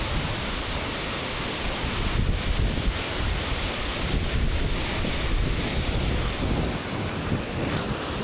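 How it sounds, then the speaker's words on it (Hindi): A strong waterfall on the Shrikhand Mahadev trek produces a steady, dense, loud roar of rushing water with wind buffeting the microphone. The roar holds unbroken throughout and no one speaks. "भाई बहुत तेज झरना है ये।"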